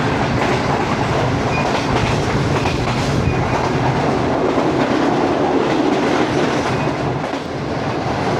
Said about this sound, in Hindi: ये रही 27 अब शालीमार एक्सप्रेस।